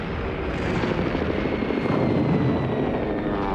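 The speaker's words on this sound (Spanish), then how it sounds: "Los aviones franquistas golpeaban con fuerza objetivos civiles y militares" Low, steady rotor-like engine drone of military aircraft passing overhead during an air raid by Franco's planes in the Spanish Civil War, a dense rumble holding at constant loudness with no voices.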